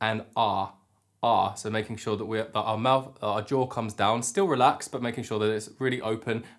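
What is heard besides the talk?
No everyday noises stand out.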